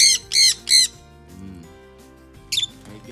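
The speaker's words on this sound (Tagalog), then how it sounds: "See? May mga birds tayo." Birds in a backyard beside a pond give three loud, close, harsh squawks in quick succession, then a quieter stretch and one more short squawk.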